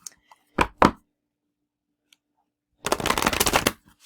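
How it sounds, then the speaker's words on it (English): Cards riffle in two quick bursts, a pause, then a longer dense shuffle, close and crisp with no talking. "I don't know how to shuffle apparently anymore"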